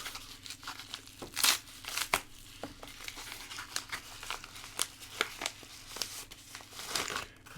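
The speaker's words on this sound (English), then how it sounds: "it comes in this very inexpensive little envelope. You open it up." A cheap paper envelope holding a Jinhao 9016 fountain pen is torn and opened up close by, with irregular crinkling, rustling and tearing bursts over several seconds, fairly quiet, with no speech.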